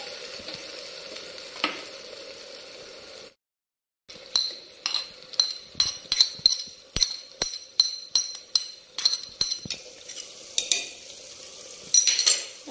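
Mutton curry stirred and fried in a pan, a steady close sizzle broken by a short silence, then rhythmic scraping and clinking strokes of a utensil against the pan, with no voices.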